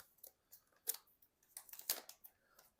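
Faint crinkling and plastic snaps in short bursts as a small camera package is torn and opened, with quiet gaps between the rustles.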